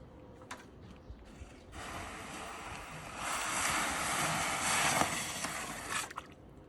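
A hot copper axle is plunged into water, giving a sustained hissing, bubbling rush that swells for several seconds and then cuts off, preceded by a few small clinks.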